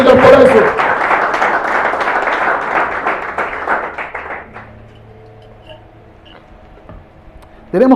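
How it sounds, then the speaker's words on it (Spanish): A church congregation claps in loud, dense applause that carries on for several seconds and then tapers off into a quieter room, before a sudden burst of sound returns at the very end. "Es un fuerte aplauso, Señor, por eso."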